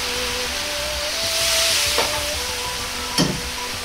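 Steady loud sizzle and hiss of soy sauce frying in a pan as water is poured in, with a couple of brief clinks over the continuous steamy crackle.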